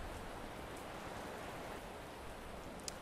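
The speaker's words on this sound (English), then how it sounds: "this is especially creepy because it's like raining out and all that kind of thing" Steady rain falling at night in the video game Salt, an even hiss of drops with no breaks, quiet and uniform, with no talking over it.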